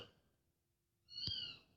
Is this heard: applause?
no